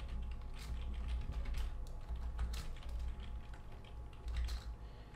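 Fingers type code on a computer keyboard in bursts of close, clicky keystrokes with brief pauses between runs, and no one speaking.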